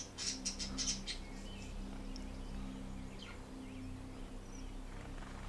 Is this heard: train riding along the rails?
no